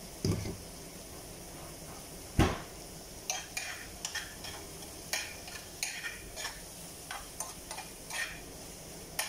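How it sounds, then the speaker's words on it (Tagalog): Eggs frying in a pan with a soft continuous sizzle, broken by a string of sharp clinks and scrapes from a spatula or spoon stirring against the metal. "sinasabay ko na nilulutuin yung itlog"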